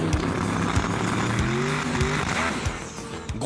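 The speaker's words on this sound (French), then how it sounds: "Finalement, la deuxième voiture de Salim réussit à s'élancer" A race car launches up a sand hill climb at the Liwa 2016 festival in Abu Dhabi, its engine roaring loud and close as it revs hard, with squealing, skidding tires and no voices.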